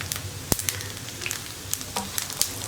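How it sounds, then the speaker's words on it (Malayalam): Cashews and raisins frying in a pan for Kerala parippu payasam, a steady close sizzle with scattered pops and light stirring scrapes throughout. "ക്യാഷിനട്ട് ഫ്രൈ ചെയ്ത് മാറ്റുക പിന്നെ റൈസിൻസ് ആഡ് ചെയ്യുക"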